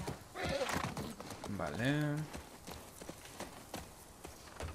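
A horse in The Last of Us Part II gives a loud rising whinny among hoof clip-clops while a player speaks briefly over it.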